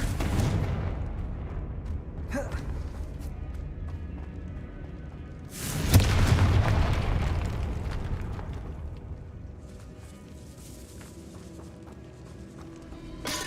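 A Confringo fire spell bursts in a Hogwarts Legacy catacomb, a deep booming blast that rises suddenly midway and rumbles away amid game ambience and music.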